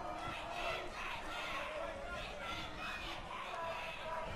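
Crowd at the Nashville Underground fight between Dylan Booker and Kue Htoo, cheering and shouting in a continuous roar with rising surges, heard faintly behind a commentator talking.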